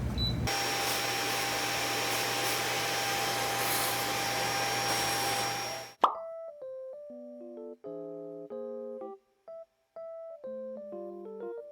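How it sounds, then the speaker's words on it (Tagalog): Washing machine running a steam wash cycle on small stuffed toys and plushies gives a steady loud whirring hiss with a low hum, then cuts off and a bright electronic chime melody plays. "So, ang gagamitin natin yung steam wash."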